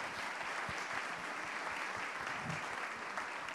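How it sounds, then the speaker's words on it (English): Steady applause from an audience at a university event, honouring a group of students at the front; a dense, even wash of clapping that holds throughout at moderate distance. "A big clap for them."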